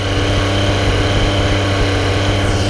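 A motorcycle with a Dominator slip-on exhaust is held at a steady 4000 RPM. It gives a loud, even, buzzing drone with no break or change in pitch.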